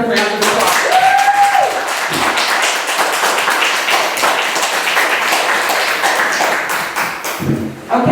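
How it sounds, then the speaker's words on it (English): Audience applause at a domestic violence survivor monologue event, a dense, sustained wash of clapping from a crowd that fills the room for several seconds, with some voices mixed in before it tapers at the end. "Let's give them another round of applause."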